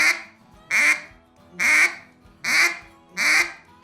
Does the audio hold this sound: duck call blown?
yes